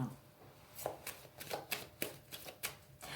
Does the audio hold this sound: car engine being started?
no